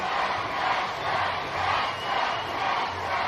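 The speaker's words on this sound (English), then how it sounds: "this cheer is for you" A live audience at an evening show cheers and hollers in a steady, dense roar that rises and falls slightly, with no clear talk over it.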